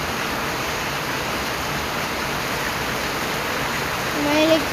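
Heavy rain pouring down steadily as a dense, unbroken hiss, with a faint brief voice-like tone near the end.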